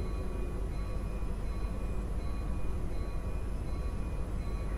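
A Union Pacific military special train departing a yard in the Railworks train simulator game, a steady low rumble with faint tonal whine, continuous and even throughout.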